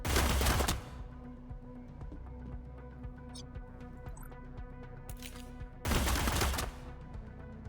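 Gunfire in a cyberpunk tactical RPG: two loud, broadband bursts open and close the stretch, with quieter sharp clicks and a steady hum between them.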